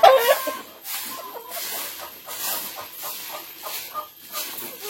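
Chickens in a backyard coop behind a house, beside a pig pen, cluck in short repeated bursts at an uneven rhythm, close and moderately loud, with no voices over them.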